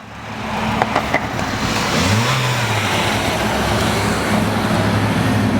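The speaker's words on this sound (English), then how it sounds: "Taking it out, we want to drive it kind of aggressively." A car being driven hard after a SeaFoam engine treatment, its engine revving and rising in pitch as it pulls away, loud and close against steady road noise.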